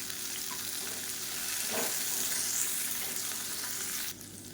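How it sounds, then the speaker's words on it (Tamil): Onions and dried red chillies sauté in a pan for onion thokku, a soft, steady sizzle with faint stirring scrapes that drops away near the end, with no voices. "இதையும் சேர்த்து வதக்கிக்கலாம்"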